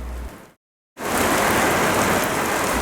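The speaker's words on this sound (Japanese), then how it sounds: "フェリーターミナルの外に出ると雨が降ってきました。" Rain falls outside a ferry terminal in Kobe, a loud, dense, steady hiss of drops on hard surfaces. It fades out, drops to silence for a moment, then comes back full and continuous.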